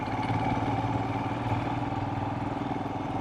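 A Royal Enfield Himalayan motorcycle engine lugs steadily at low revs in second gear, a continuous deep throbbing rumble with even pulses, close and fairly loud, no voices.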